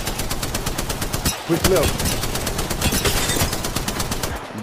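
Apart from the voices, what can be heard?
gunfire in the video game Apex Legends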